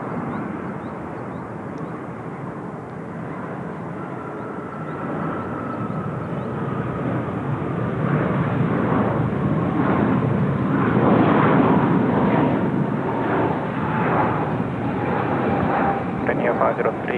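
Jet engines of a Boeing 777 freighter spool up for takeoff on runway 16 left at Seoul Incheon Airport, a broad steady roar that swells and grows louder over the final seconds, with a voice talking over it.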